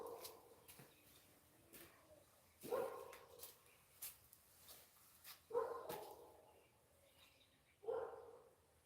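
A dog barks outdoors on a cold mountain morning, with four loud, spaced barks over several seconds and fainter yips and bird calls between them.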